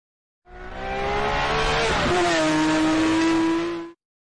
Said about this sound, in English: Racing car.